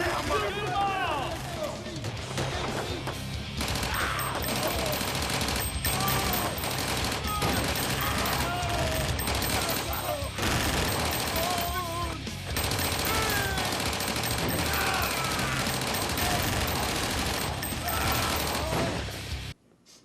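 Prop gunfire on a gangster film set, loud continuous volleys of rapid shots lasting many seconds with voices shouting underneath, ending abruptly.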